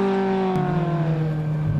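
A tuned Lotus sports car's engine drones loud and close under hard acceleration, its steady buzzing note dropping once as at a gear change before holding again.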